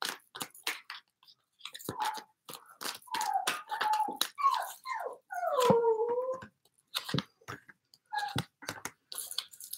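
A dog cries to be let outside where other dogs are, giving a close run of high, wavering whines and short yelps in uneven bursts with brief quiet gaps between them.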